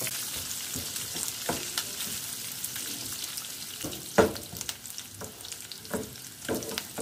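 Garlic and onion frying in hot oil, a steady close sizzle with occasional louder pops and crackles, no talking.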